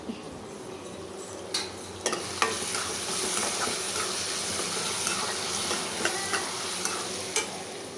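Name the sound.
fish frying in a pan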